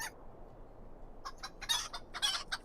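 A chicken in the video game Lord of the Rings Online clucks in a few short, bright bursts that come closer together and grow louder toward the end, over a quiet background.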